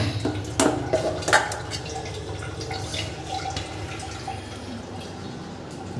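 Water splashing and dripping while household items are washed by hand in a village home, with a few louder splashes early on and a steady wet trickle continuing throughout.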